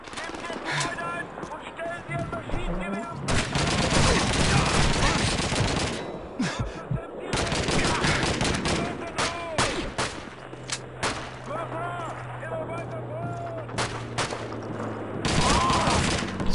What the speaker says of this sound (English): Stop shooting, you're dead. That's my machine gun.